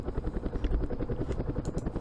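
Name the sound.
helicopters flying in the Campaign Series Middle East video game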